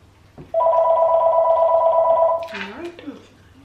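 A single phone ringback tone sounds loud and steady for about two seconds, then cuts off as a voice begins talking.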